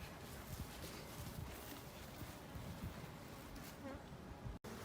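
Honeybees at a top bar hive in a community garden, a dense, continuous buzzing hum that holds steady and close throughout, with a faint voice underneath.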